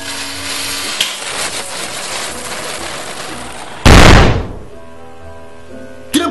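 A Raudi and a Magnum firecracker exploding: a single loud, sharp blast with a brief roaring tail, followed by a smaller pop near the end, set against steady background noise.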